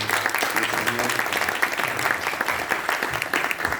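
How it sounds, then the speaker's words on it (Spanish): A church congregation applauds the women of the church, a steady, dense patter of many hands clapping at moderate distance, with faint voices mixed in underneath. "Un aplauso para las damas del Señor."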